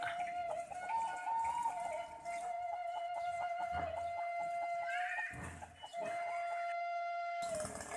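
Chickens cluck steadily around a rural Indonesian village in the morning, with a rooster-like call standing out over continuous background birdsong and farmyard ambience; no one speaks.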